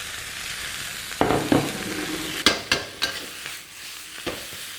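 Noodles with garlic chives and sausage are tossed in a hot wok over a steady sizzle, with several sharp scraping clanks of the utensil against the pan.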